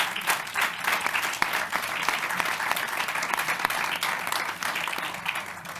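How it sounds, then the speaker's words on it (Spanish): Audience applause at a sports equality panel event, a dense sustained clapping from a crowd filling the whole stretch at steady loudness with no talk. "Sí, aplausos."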